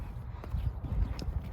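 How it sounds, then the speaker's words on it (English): A young horse just learning to be led walks over firm ground, giving a few close, hollow hoof clops in an uneven rhythm over a short moment. "This horse is just barely learning how to lead,"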